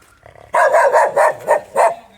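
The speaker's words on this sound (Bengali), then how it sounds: "প্রত্যেক বাড়িতে একটা কুকুর" A dog barks in a short burst of about five sharp, loud, close barks at an even pace, with nothing else heard.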